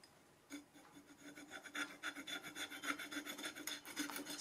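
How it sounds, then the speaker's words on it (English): Dried oil paint being scraped off a surface with rapid, rhythmic rasping strokes that build in loudness and stay close, with no talking. "Scraping off the dried paint."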